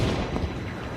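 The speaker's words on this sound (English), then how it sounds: "There was the awesome thunder of the cannons." Cannons thunder in a pirate radio drama set around a galleon off a pier, a dense, loud rumbling boom that fills the whole short moment.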